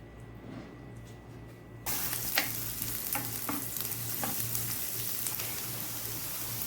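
Chopped onion frying in two tablespoons of oil for a white sauce gives a soft, steady sizzle, close and fairly quiet, with occasional utensil scrapes as it is stirred.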